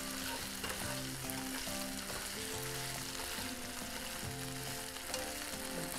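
Shrimp frying for Cajun po boys, a steady crackling sizzle in a pan with occasional faint stirring, close and continuous with no voices.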